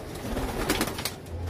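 Racing pigeons coo softly and repeatedly at close range, low murmuring calls layered over a steady background hum, with no talking.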